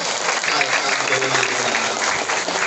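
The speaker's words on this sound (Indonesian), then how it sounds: "Tepuk tangan buat yang cowok" A crowd at a Maulid Nabi celebration claps for the boys, a dense, continuous patter of many hands sustained at steady volume.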